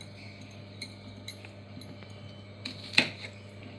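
Soft knife taps against a board as green chillies are cut into two pieces for Andhra-style pappu charu, a handful of sparse, quiet cuts with one sharper clack near the end.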